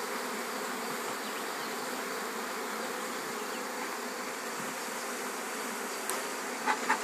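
A swarm of honey bees being caught into a hive, humming in a dense, continuous buzz that stays steady and fairly close throughout, with a few brief clicks near the end and no voices.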